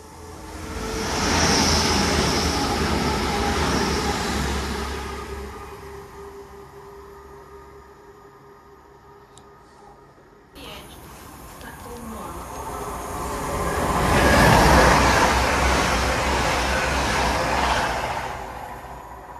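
A Grand Central train runs through Welwyn North station, a loud rushing roar that swells, dips, then surges again as carriages pass close by, with a sharp break midway and brief voices nearby.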